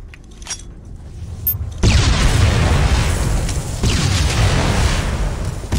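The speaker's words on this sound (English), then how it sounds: "Clear the room with a grenade." A grenade goes off in the PS2 shooter Killzone, with a sudden loud blast at about two seconds that settles into a sustained rumbling roar. A second surge of noise follows near the end, and no voices are heard.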